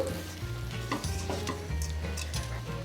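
Steady close sizzling of tempering spices frying in hot oil for radish chutney, with occasional light stirring clinks.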